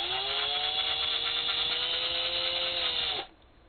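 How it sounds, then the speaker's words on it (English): A high-pitched electric drill with a 1/4-inch bit whines steadily for about three seconds while drilling a plastic pill bottle, then cuts off abruptly and spins down. "Using a 1/4-inch drill, we proceed to drill a hole"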